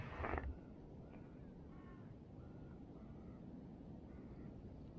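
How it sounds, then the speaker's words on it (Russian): A large winter flock of hooded crows calls from a distance, with scattered faint caws over a quiet low background hum and a brief louder thump at the start. "Вот это да, столько ворон."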